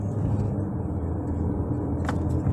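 A 2021 Volvo XC60 D4 AWD diesel SUV kicks down and accelerates, heard as a steady low engine drone inside the cabin, fairly loud and unbroken for the whole moment.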